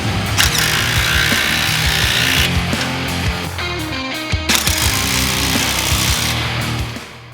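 A 15 tool tightening the clamp on a Khrome Werks slip-on exhaust for an M8 motorcycle, with a loud, close, continuous whirring and rattling tool noise that briefly pauses and then resumes.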